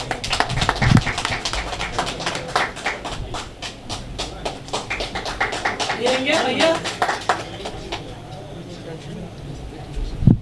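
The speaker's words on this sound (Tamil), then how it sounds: "உங்களுடைய உற்சாகமான கைத்தட்டலோட." A crowd claps in a quick, steady patter that runs for several seconds and then fades, with voices mixed in.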